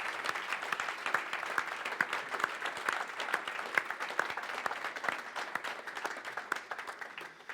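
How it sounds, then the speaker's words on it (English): Audience applause in a room after a talk on shared, electric, autonomous transport: dense, steady clapping from a crowd that fills the whole stretch at an even level, with no voices over it. "let's have a big round of applause for Tim"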